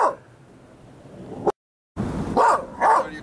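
A dog barks indoors in a few loud, close yips and barks, separated by a brief silent gap.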